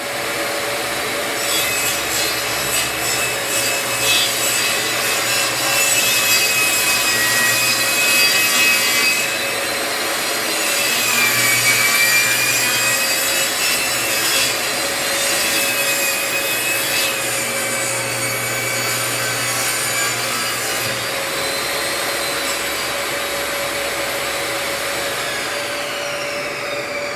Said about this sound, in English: All right, plywood's cut.